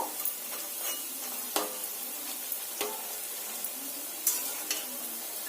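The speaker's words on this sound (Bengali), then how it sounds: "তেলটা আমার গরম হয়ে গেছে এবার একে একে এই পাতার ডিজাইনগুলোকে ভেজে নেব" Leaf-shaped pitha fry in hot oil, giving a steady fine crackling sizzle with a few sharp clicks of a utensil against the pan, quiet and close, no talking.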